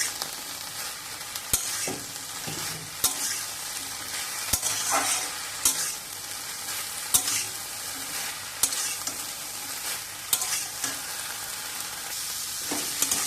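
Pumpkin shoots fry on high heat in a pan, a continuous close sizzle with repeated sharp clacks and scrapes of a spatula as they are stirred, roughly every second or two.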